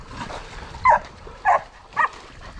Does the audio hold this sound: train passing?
no